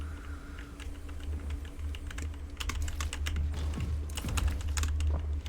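Rapid clicking keystrokes on a computer keyboard, close and fairly loud, coming in irregular bursts that grow busier toward the end over a low steady hum.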